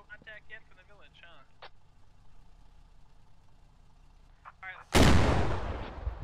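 A Stryker vehicle fires in a military video game, one sudden, heavy, booming shot that follows several seconds of quiet engine rumble and brief voices, its blast decaying slowly afterward.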